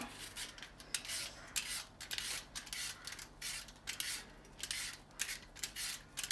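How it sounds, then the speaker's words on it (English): Apples being peeled with a speed peeler, giving quick repeated rasping scrapes in steady bursts, fairly close and moderately loud, with no talking. "This is a speed peeler."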